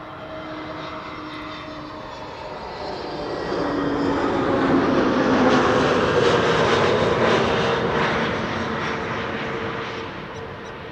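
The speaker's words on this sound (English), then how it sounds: "In the meantime, KM Malta is arriving." A KLM airliner arrives at Amsterdam Schiphol Airport on a sunny day, its steady broadband jet engine roar swelling louder as it passes nearby, then easing slightly while staying continuous throughout, with no talking.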